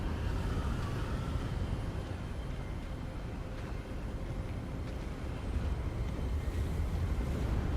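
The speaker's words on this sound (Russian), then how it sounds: "О, ветрище какой поднялся." Strong wind roaring steadily in the Hogwarts Legacy video game, a dense, continuous gusting rush that stays loud and unbroken throughout, with no talking over it.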